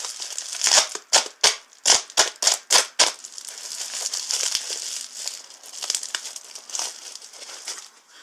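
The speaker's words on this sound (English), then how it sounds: "Let's pop the bag open with stuff that it came with." A plastic bag holding replacement gaskets for a 2005 Pontiac G6 front catalytic converter is torn and crinkled open up close, a burst of sharp rhythmic rustles followed by softer, uneven crackling.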